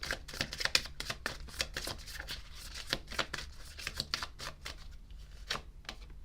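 Tarot cards are shuffled and drawn by hand, making a rapid run of crisp, close flicks and snaps in an uneven rhythm against a quiet background.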